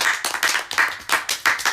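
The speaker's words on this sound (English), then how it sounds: "So give yourselves a round of applause." Hands clap in a quick, even rhythm, about five distinct bursts in under two seconds, close and fairly loud, as listeners give a round of applause at the end of a podcast episode on relationships and marriage.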